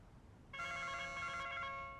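A telephone bell rings once in a short burst, a bright steady trill starting abruptly and cutting off after about a second, fairly quiet and alone with no talk.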